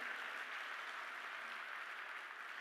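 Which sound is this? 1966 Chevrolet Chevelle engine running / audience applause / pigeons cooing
audience applause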